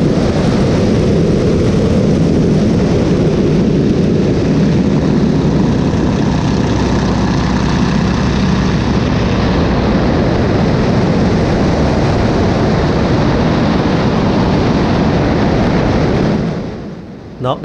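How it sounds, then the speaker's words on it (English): Stearman biplane with a 220 hp engine roaring loud and steady through a barrel roll in an open cockpit, with broadband wind and engine noise throughout until it drops away briefly near the end. "Since the 220 horsepower engine doesn't generate enough airspeed for the maneuvers, every time Brian needs to dive a little bit"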